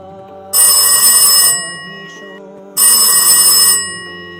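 A telephone bell rings at night in two loud, close bursts of about a second each, with a short pause between them, over a quiet musical background.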